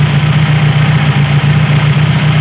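A Toyota Corolla engine idles steadily and loudly, a continuous low hum with a constant pitch and no other sounds.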